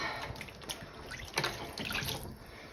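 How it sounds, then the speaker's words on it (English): Water splashing and trickling steadily into a dye pot, close by, with a few louder splashes midway and no talking. "and then add a bit more water"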